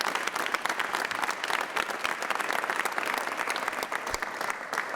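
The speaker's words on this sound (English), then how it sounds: "I think they all deserve a round, rousing applause." Audience clapping at a Georgia state senator's press conference, a dense, even burst of applause from a room of people, sustained and fairly close.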